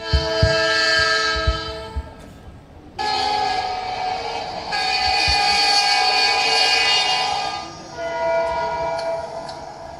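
Train running on rails as it nears a station, loud sustained horn-like tones over a rumbling undertone, cutting off and resuming in several long blasts that sound close.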